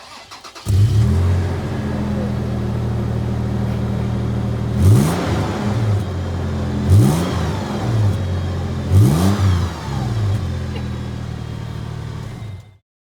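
A Toyota FJ Cruiser engine with stock exhaust idles steadily, then revs sharply three times at regular intervals, each rise and fall loud and close, before cutting off.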